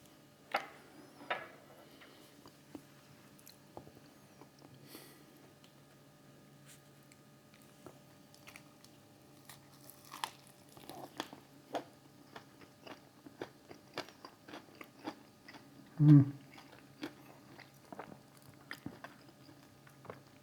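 Crunchy bites and chewing of a Chick-fil-A Pretzel Cheddar Club sandwich, close and quiet, with scattered small crunches and one louder bite near the end, no talking.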